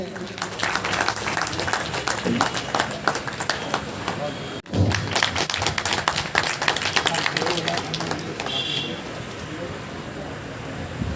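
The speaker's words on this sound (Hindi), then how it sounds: "जोरदार ताली बजा दें प्लीज" An audience at a Mau Modern School ceremony honouring NEET-qualified students claps in steady, sustained applause that breaks briefly and resumes, with voices audible in the hall.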